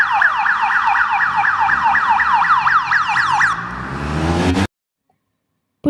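Police motorcycle siren wailing in a fast, regular up-and-down sweep, loud and close, then changing pitch before cutting off abruptly into silence.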